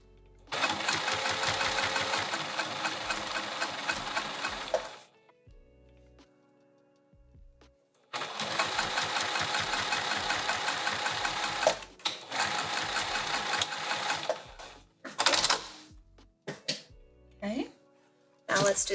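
A sewing machine runs in two long bursts of steady rapid stitching through a velveteen boxy pouch, close and loud, with brief pauses, then short clicks and handling noises at the end.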